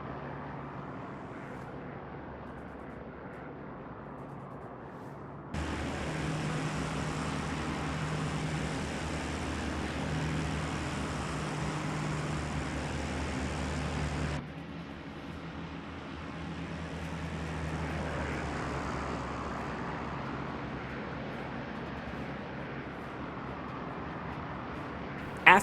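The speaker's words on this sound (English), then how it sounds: "Loaded with bombs, the HE-111 planes are quite heavy, but the German pilots get them up in the air with ease." Heavy, bomb-laden Heinkel He 111 bombers with propeller engines roar in a steady drone that jumps sharply louder partway through, then eases back to a sustained hum. No one speaks.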